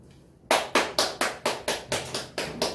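An audience at a forum debate breaks into applause as even, rhythmic unison claps, about four sharp strikes per second, fairly loud and close, after a quiet start.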